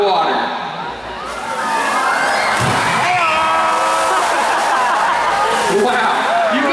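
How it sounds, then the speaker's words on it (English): A killer whale breaches at a SeaWorld San Antonio orca show, its heavy splash followed by a long rush of falling water over crowd noise, whistles and laughter from the stands. "So when these whales come crashing down onto the surface, that sound can be heard from miles away."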